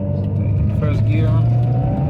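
A 1991 Toyota Sera with a five-speed manual pulls away in first gear, a short steady engine drone heard from inside the car.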